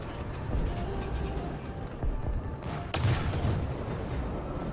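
A tank gun in War Thunder fires with a single loud boom and impact crash, set against a low rumbling engine bed and scattered battle noise, with a voice talking nearby.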